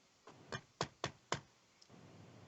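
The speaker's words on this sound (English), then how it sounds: "made his way out of the bedroom and down the hall" Four sharp knocks on a bedroom door in quick succession, then a faint fifth tap, close and clear against a quiet background with no talking.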